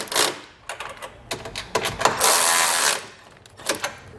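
A 13 mm socket wrench snugs up the bolts that hold running boards to their mounting brackets, making bursts of quick ratcheting clicks, then a longer continuous ratchet run, close and alone.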